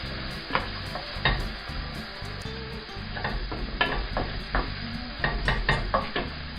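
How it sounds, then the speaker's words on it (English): Seasoned peas stirred in a hot pan, a continuous soft sizzle broken by repeated scraping knocks of a utensil against the pan in an uneven rhythm, close and fairly quiet. "some salt and pepper seasoning, give them a quick stir around."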